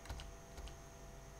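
Quiet clicking of keys on a Windows computer keyboard used with a Mac, a few quick taps then a pause, heard close up with no talking.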